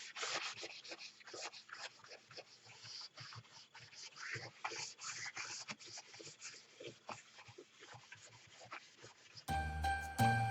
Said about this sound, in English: I'm going to take it and kind of rub it down.